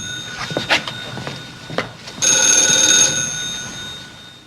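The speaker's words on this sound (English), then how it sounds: "Your phone's ringing." An old-fashioned telephone bell in a 1950 film rings loudly in one sustained metallic burst, preceded by brief rustling and knocking sounds.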